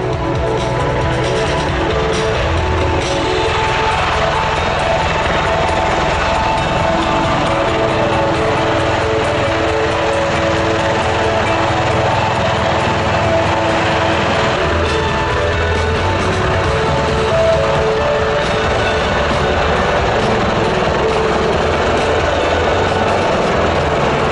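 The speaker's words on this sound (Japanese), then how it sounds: "オスプレイはスポット上で水平に360度旋回し左右へスライドします。" An MV-22 Osprey tiltrotor hovers low and spins in place during an air show demonstration at Iwakuni, producing a loud, unbroken drone of engines and prop rotors that holds steady throughout.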